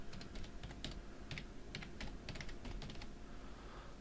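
Quick, light keystrokes on a computer keyboard come in short uneven bursts while a password is typed, faint and close, with no speech.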